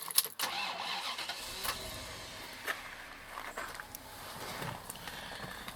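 A classic Bentley Turbo R with a turbocharged V8 cranks and fires up faintly in the distance, followed by a low, uneven idle with a few clicks and knocks.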